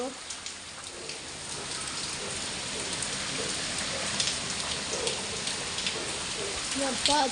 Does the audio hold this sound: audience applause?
no